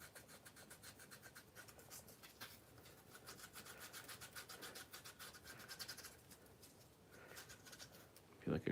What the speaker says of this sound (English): And then I take a sanding sponge.